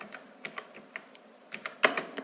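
Scattered keystrokes on a computer keyboard while typing in MS Word, a dozen or so irregular clicks in quick bursts, close and fairly quiet, with one sharper, louder key press near the end.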